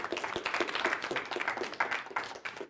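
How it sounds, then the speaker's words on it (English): Applause from a leadership conference audience: dense, steady clapping from many hands, loud and close, filling the whole stretch without a break. "A round of applause. That's good."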